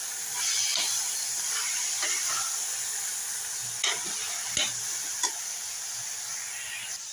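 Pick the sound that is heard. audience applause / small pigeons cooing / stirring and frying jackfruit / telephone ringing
stirring and frying jackfruit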